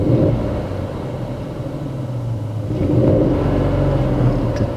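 A car engine idles and then revs up to about 1,500 rpm during a driving lesson, a steady low rumble that swells slightly mid-clip, heard from inside the cabin with no talking.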